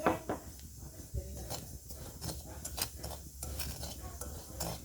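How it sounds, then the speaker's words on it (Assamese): Salt being stirred as it heats in a kadai, a soft scraping and rustling with faint sizzle and occasional clinks of a utensil against the pan, steady and close. "আৰু এতিয়া মই কেৰাহী গৰম দি দিলোঁ। আৰু মই ইয়াতে লৈছোঁ 1 বাটি নিমখ। চাওক, মই এতিয়া নিমখখিনি গৰম কৰি ল'ম।"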